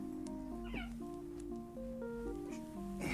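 A cat meows several times, drawn-out and fairly close, over a steady electronic hum and tones, with no talking.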